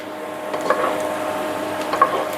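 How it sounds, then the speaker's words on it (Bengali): Chopped onions frying in a pan, cooked as the start of a noodle dish: a steady, soft sizzle with a couple of light stirring scrapes, no talking. "এখন পেঁয়াজ কুচিগুলো একটু ভেজে নেব"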